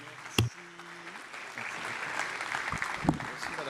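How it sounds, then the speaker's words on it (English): Applause rises from the audience at a Paris Peace Forum session, fairly faint and building after a brief thump and a short tone, with scattered claps continuing to the end. "Round of applause."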